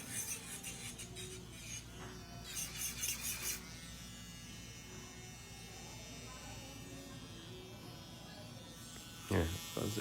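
An electric nail drill with a sharp bit works along the cuticle area and natural nail bed during an acrylic nail job, a steady, faint electric buzz with a few brief bursts of louder grinding, under quiet talk.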